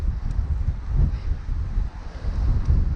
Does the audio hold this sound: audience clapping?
no